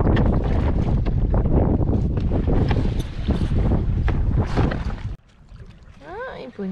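A sailboat under way on the Solent in wind, broadband rushing water and wind buffeting across the microphone, loud and steady, then dropping sharply to a quieter hiss near the end with faint bird-like chirps.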